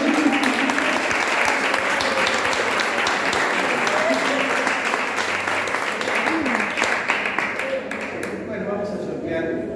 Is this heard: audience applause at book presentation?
yes